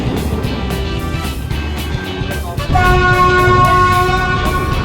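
A train on the Death Railway (Thonburi–Nam Tok line) in Kanchanaburi, Thailand, rumbling loudly along the rails, a steady roar that swells partway through and brings in a high metallic squeal.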